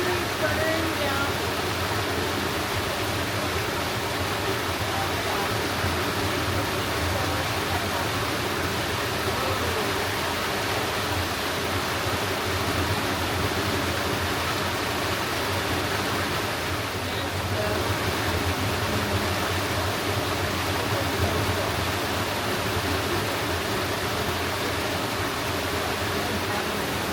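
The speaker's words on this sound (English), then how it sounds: "We're literally in a private pool with a waterfall" A waterfall spills into a private hot spring pool with a steady, dense, unbroken rush, close and constant throughout with no clear breaks.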